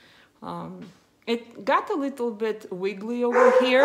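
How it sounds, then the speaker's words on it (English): A dog barks and yips in short bursts close by, with whimpery cries mixed in, while a person talks over it indoors. "Sorry for my dog barking"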